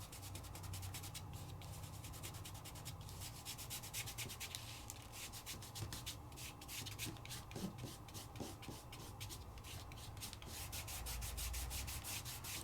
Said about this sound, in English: Take your finger and just burnish it on in.